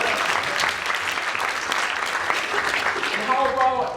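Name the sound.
audience round of applause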